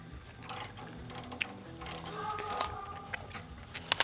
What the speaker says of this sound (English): now that I've loosened this nut and bolt here